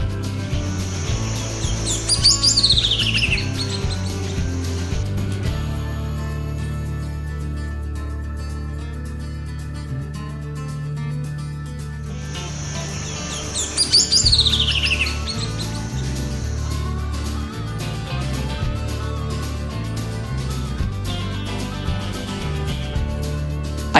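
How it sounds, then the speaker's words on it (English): Bridled honeyeater, a small nectar-feeding rainforest bird, gives two bursts of bright, musical chirping song in the Daintree Rainforest, a few seconds apart, over a steady background of low music. "This tiny rainforest gem with its striking white bridle across the face feeds mainly on nectar and has a musical song"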